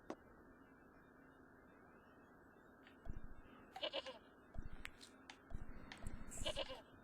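A goat in the video game Broken Sword Reforged bleats twice in rough, buzzing bursts, fairly close over a quiet, steady background hum.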